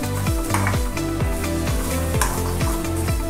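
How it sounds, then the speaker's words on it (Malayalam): Grated coconut roasting in a pan for a Kerala-style chicken curry, stirred steadily: regular scraping strokes about twice a second over a constant dry sizzle, close and fairly loud, with no voices. "നമ്മൾ തേങ്ങ വറുക്കുമ്പോൾ നന്നായി ഇളക്കിക്കൊണ്ടിരിക്കണം"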